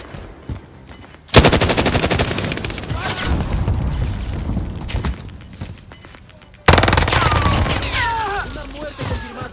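Rapid automatic gunfire bursts loudly in a Warzone match, with dense rattling volleys that cut in sharply, pause, then resume, alongside a voice speaking.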